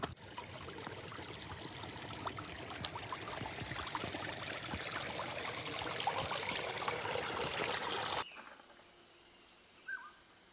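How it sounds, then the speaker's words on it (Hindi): A forest stream on a trek in Goa flows steadily in a broad, close trickling rush for about eight seconds, then cuts away to quiet outdoor ambience with a faint brief call near the end. "पता नहीं ये पानी आ कहाँ से रहा है"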